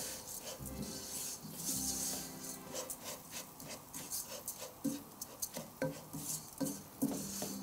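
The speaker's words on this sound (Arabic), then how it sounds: "بقلب العدس والرز برضو زي ما قلنا ليتحمصوا ويدبلوا هيك، يتهبلوا مع البصل" Lentils, rice and onions with spices are stirred in a pot, giving soft, irregular scraping and clinking of a spoon against the pot over a low sizzle, close and fairly quiet.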